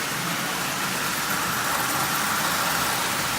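A Marx 999 toy train locomotive, its reversing unit bypassed, runs with a steady, loud motor whir and hiss that stays constant throughout, with no speech.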